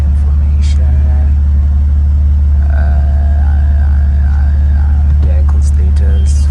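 A BMW M4 with an S55 engine idles steadily after its VANOS solenoids were replaced, giving a loud, even low rumble close up while a person talks over it.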